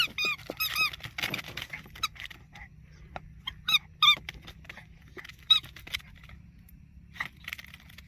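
A dog chews a squeaky toy, giving sharp, irregular high squeaks in short bursts with quiet gaps between them, close by over faint background hum.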